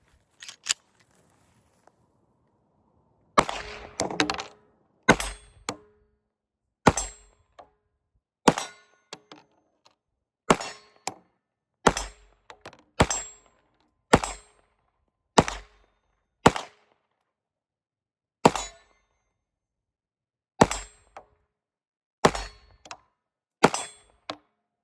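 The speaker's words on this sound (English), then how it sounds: "I just love the sound of steel." Steel targets on a shooting range struck by handgun rounds, each sharp crack followed by a ringing clang, irregularly spaced singles and quick pairs over about twenty-five seconds, with silence between.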